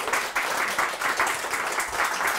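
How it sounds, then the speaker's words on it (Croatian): Audience applause at the close of a talk, a steady wash of many hands clapping that holds evenly loud from start to finish, with no voice heard above it. "Aplauz za Majance."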